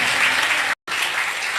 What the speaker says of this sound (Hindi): कुछ अच्छा ताली बजा रहे हैं